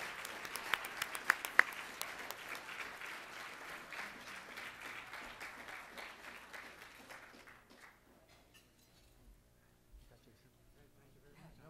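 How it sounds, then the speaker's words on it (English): Applause from the audience at a Chamber of Commerce leadership celebration, a broad wash of clapping with a few sharp nearby claps, fading away after about seven seconds to near quiet with faint voices. "So please, big round of applause, and let's welcome Bob Marinero."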